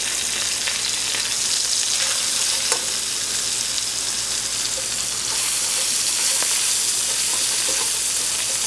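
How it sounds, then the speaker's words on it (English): Ginger and spring onions stir-frying over high heat, a loud, steady sizzle with a constant crackle and occasional faint scrapes of stirring, no voices. "you just want to stir fry these vegetables on high"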